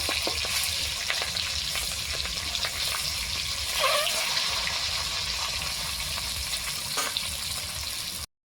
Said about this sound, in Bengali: ডিমের এক সাইড ভাজা হয়ে গেছে উল্টে দেবো